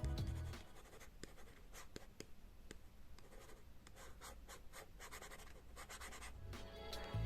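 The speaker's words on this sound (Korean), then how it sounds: "금속 펜촉을 쓰면 필기할 때 약간은 시끄러울 수도 있지만" Continuous close scratching of a metal-tipped Lenovo Active Pen 3 writing on paper-texture film over a Lenovo P11 tablet screen, rapid strokes and light ticks repeating for several seconds with no voices.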